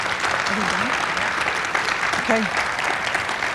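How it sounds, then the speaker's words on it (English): Audience applause at an event, a full, sustained wash of clapping throughout, with a brief spoken word and a voice heard over it. "Let's give them a nice round of applause again."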